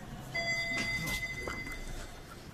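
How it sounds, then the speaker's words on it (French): A Paris metro train pulls into a station, a steady rumble with a high electric whine and brief squeals, moderately loud with no talk over it. "Voilà, le métro il est là."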